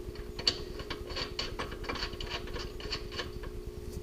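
Ratchet tightening a new bolt during a Rough Country 3.5-inch lift kit install on a Jeep Wrangler JK, a steady run of close, dense clicking with a brief louder knock near the start, no talking.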